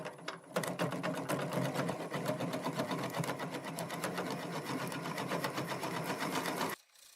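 A 1.25-inch bit boring into a birch wood blank spinning on a lathe at about 300 RPM, a dense steady chattering whir close by, running continuously before cutting off abruptly at the end.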